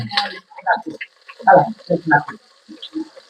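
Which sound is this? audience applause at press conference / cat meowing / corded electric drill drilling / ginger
ginger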